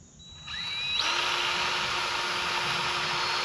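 A DeWalt DCGG571B cordless grease gun starts up and runs steadily, a close whining motor hum that ramps up within the first second and then holds level without a break.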